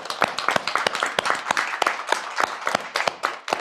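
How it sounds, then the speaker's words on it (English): A classroom group gives a round of applause, many hands clapping in a dense, uneven patter of sharp claps that stays steady for several seconds with no talking over it. "Before I do that, I want to give everybody just a huge round of applause."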